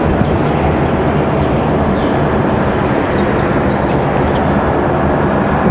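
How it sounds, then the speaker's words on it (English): A Boeing 737 MAX 8 airliner roars at an airport, a loud, steady broadband jet rumble with no clear voices over it. "that was the 737 MAX 8"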